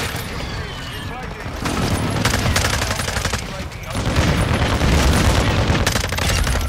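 Rapid video game gunfire in bursts and sustained volleys, loud and dense, with the barrage swelling heavier partway through.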